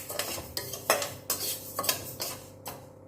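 Thiruvathirai kali being stirred and roasted in a pan: repeated metal spoon scrapes and knocks against the pan at a quick, uneven rhythm over a low sizzle, close and with no talking.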